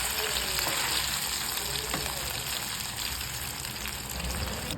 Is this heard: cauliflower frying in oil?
yes